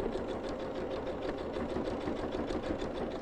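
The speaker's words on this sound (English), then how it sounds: "And I'm going to stitch over my pins." A sewing machine runs steadily, stitching over pins, its fast even needle chatter and motor hum continuing without pause at close range.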